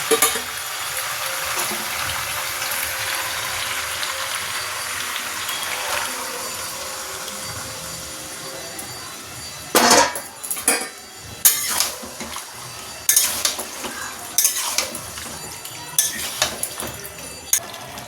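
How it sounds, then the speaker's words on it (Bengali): Chilli chicken stirred in a pan with prepared sauce: a steady sizzle at first, then a series of sharp clanks and scrapes of a utensil against the pan at irregular intervals. "ভালো করে নাড়িয়ে নিলাম এবার এই যে সস তৈরি করে রেখেছি এটা দিয়ে দেবো"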